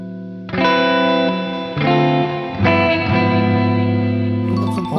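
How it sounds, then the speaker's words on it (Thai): Electric guitar chords played through the built-in reverb effect of an Enya Sonic JT Jack Thammarat signature smart guitar with onboard speaker, strummed loudly in several sustained, ringing chords that wash into each other. "ก็รีเวิร์บ"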